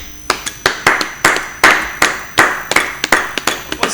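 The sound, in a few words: congregation clapping in acclamation at church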